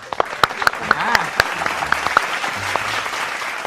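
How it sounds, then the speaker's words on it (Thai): Studio audience applause on a Thai TV game show, a steady wash of clapping with sharp individual claps punctuating it, while a voice keeps talking underneath. "ขอเสียงปรบมือ"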